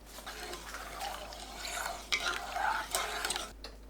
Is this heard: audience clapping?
no